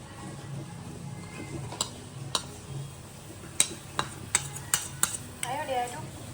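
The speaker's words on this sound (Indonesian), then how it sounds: "sambil langsung diaduk-aduk ya." Rice flour poured into boiling water in a pot is whisked, with sharp metallic clinks and scraping taps of the whisk against the pot, several in quick succession, close and fairly quiet.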